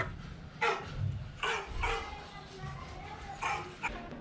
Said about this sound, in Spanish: los perros, en plan sonidos de perros.